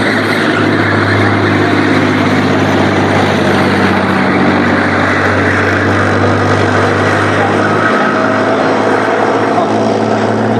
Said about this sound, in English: Powered by a Turkish diesel engine, much more mechanically reliable than the old Chieftain engine was